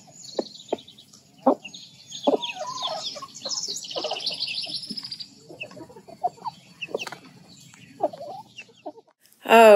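A mother hen clucks softly with two little chicks peeping and chirping close by, scattered short calls with quiet gaps between them, ending in a louder burst.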